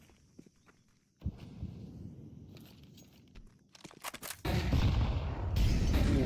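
A grenade explosion and gunfire in a Counter-Strike esports match: sparse footsteps and shots give way to sharp cracks, then a loud, sustained blast roar fills the last couple of seconds, with no talk over it.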